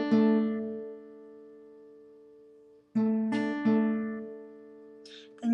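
A single plucked guitar note rings out and slowly decays, then two more finger-picked notes follow after a pause, with a faint breathy noise at the end.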